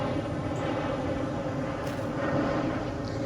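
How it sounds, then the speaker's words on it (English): An airplane passes overhead near an airport, a broad, steady roar at moderate distance that swells slightly toward the end, with faint background noise. "You hear the plane overhead."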